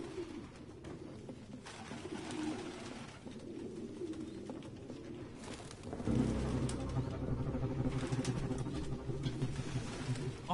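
Pigeons coo repeatedly in a run-down apartment in Detroit: Become Human, a steady layered murmur of calls over low game ambience that grows louder and denser partway through, with no talk.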